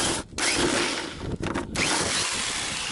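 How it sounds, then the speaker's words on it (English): A hole saw on a power drill cutting a hole for an MTD column shifter build outdoors on a windy day: a steady loud grinding whir with a few brief dips, close up, with wind noise. "So that's where I'm going to drill it."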